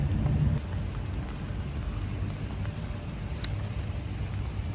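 Steady outdoor rain falls at the University of Santo Tomas grounds in Manila near the Arch of the Centuries, a dense continuous hiss with distant traffic rumble and no talk.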